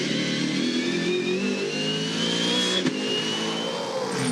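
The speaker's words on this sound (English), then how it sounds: "You can hear the car there" Supercars race car engine howling steadily on a circuit at Sydney Motorsport Park, loud and continuous with a sustained high-pitched whine and no talking.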